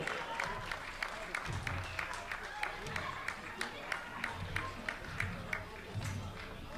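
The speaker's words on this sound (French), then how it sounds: "Et les bénévoles du Dessines Mes Yeux Athlétisme qui vont t'applaudir." Volunteers at an athletics meeting applaud, sparse rhythmic claps spread across the clip, moderately loud and steady amid crowd murmur and faint voices.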